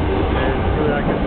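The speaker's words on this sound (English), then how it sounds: "That's the train I just came off of." A train rumbles at Shinjuku Station in a busy nighttime platform setting, a steady low roar and rattle close by, with someone talking over it throughout.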